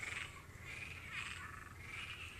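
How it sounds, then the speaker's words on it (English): A chorus of frogs croaking in repeated pulsing waves, steady and moderately distant, with no talking. "Man, the frogs."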